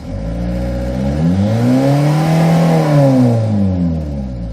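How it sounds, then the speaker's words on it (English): A 2000 Hyundai Porter diesel truck with a manual gearbox revs loudly and close up. The engine's whine climbs smoothly in pitch, holds, then falls back as the revs drop, with no talking over it. "Let's try to accelerate. See the RPMs."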